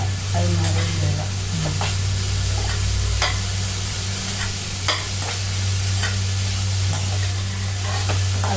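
Vegetable poriyal being stirred in a frying pan with salt mixed through: a steady close sizzle under repeated scraping and clinking strokes of the spoon against the pan, with a low hum beneath.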